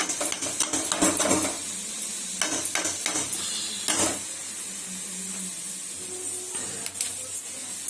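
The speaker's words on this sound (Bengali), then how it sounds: "এখন এই দানাগুলো এই মশলার মধ্যে দেব, দিয়ে একটু কষিয়ে নেব।" Bean seeds and shrimp being stir-fried in spice paste in a pan, with clattering metal spoon scrapes and pot knocks in bursts over a soft steady sizzle, up close.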